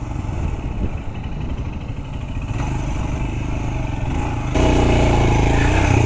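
A 2023 Royal Enfield Scram 411 scrambler motorcycle engine drones steadily while riding on a small off-road track, with wind rush and a sudden louder, rougher surge near the end.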